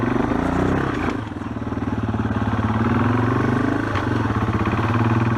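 A Yamaha XT225 trail bike idles in first gear while climbing steps, its steady single-cylinder thump close and loud throughout, with brief clatter and scraping as it bumps over the edges.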